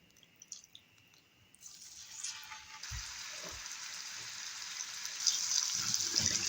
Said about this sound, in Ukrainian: На сковорідку наливаю соняшникову олійку і викладаю наше м'ясо